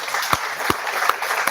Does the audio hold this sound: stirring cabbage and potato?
no